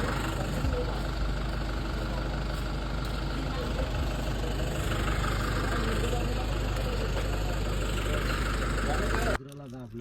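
A car engine runs steadily at idle, a low continuous rumble with a slight knock that fills the whole stretch before cutting off abruptly near the end, with faint background voices.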